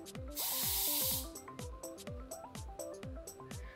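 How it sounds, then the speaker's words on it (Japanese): Elnett hard hairspray is sprayed onto curled hair in one short, close hissing burst lasting under a second, with a rhythmic musical backing continuing underneath and after it. "軽くハードスプレー、まあ、Lネットのスプレーだったりとかをちょっと軽くこのカールをこうキープしながら"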